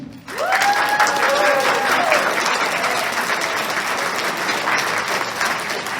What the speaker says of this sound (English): Round of applause for all the performers.